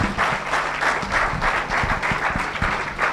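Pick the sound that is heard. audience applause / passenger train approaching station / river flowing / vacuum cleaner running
audience applause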